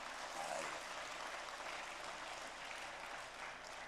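A church congregation claps together during a Sunday sermon, a steady wash of applause at moderate distance that holds evenly for a few seconds with no voices over it.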